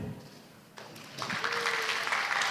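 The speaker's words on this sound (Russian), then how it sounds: "Обычно аплодисменты громче, когда звучит это имя." Applause at a press conference at the Slavianski Bazaar festival in Vitebsk, starting faint and swelling into steady moderate clapping, with a brief tone heard over it.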